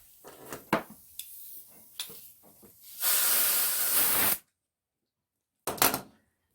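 A compressed-air nozzle blasts a mower part in a steady, loud hiss lasting over a second, preceded by scattered handling clatter and followed by a shorter second burst after a silent pause.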